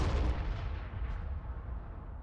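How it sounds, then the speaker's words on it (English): Artillery firing in the Warhammer 40,000: Armageddon strategy game, a deep booming blast that rumbles and decays over about two seconds, heavy and low, with no voices over it. "Artillery! Fire!"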